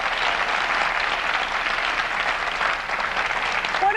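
Sustained television studio audience applause, a dense wash of many hands clapping at steady loudness throughout, without a break.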